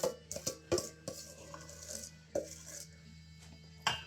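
Stiff caramel chip biscotti dough being stirred in a bowl, giving a series of soft scraping knocks and clinks of the spoon against the bowl, spaced irregularly at close range with no talk.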